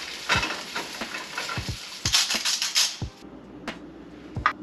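Eggs and salmon frying in a pan that is too hot: a close, crackling sizzle with bursts of spattering, broken by scraping and stirring knocks from a utensil against the pan.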